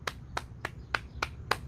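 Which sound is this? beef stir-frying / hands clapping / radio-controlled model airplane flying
hands clapping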